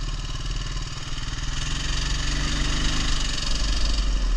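A 500 off-road vehicle fitted with huge tires, no lift and no gear reduction, roars with a loud, steady engine drone and rumbling tire spin, close and continuous.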